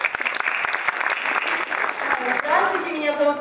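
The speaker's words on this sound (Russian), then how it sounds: "давайте похлопаем Данилу" A theatre audience at a KVN comedy league game bursts into dense, loud applause that fades gradually, with a voice talking over it.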